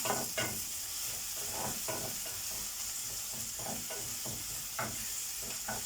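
Minced meat and chopped leeks frying in a pan, with a constant sizzle broken by repeated scraping stirs at an uneven rhythm, close and without voices.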